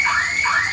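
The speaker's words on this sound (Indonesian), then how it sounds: "Iku alarm apa Mbak iku?" An electronic alarm sounds with a steady, loud, repeating swept tone that rises and falls in quick cycles, filling the whole stretch with no other sound on top.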